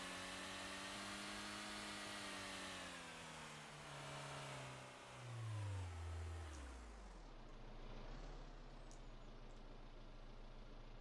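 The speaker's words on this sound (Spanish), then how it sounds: "Este coche corre un poquillo." A car drives in the video game Auto Sale Life, its engine droning loudly, then dropping in pitch and easing down as it slows, with a low rumble continuing afterward and no voice over it.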